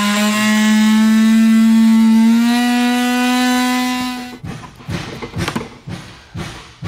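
A power tool cuts through the plastic bumper fascia of a 2022 Ford Explorer. Its loud, close whine climbs slowly in pitch for about four seconds, then stops, leaving a few sharp clicks and knocks.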